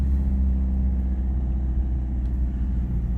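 A diesel turbo 4x4 Toyota Town Ace van drives along, its engine a steady, close, deep rumble from inside the cabin with a light throttle rise and no gear changes or talk.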